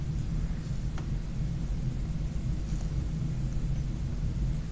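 Thunder from a storm moving closer, a steady low rumble that swells and rolls throughout with no voices over it.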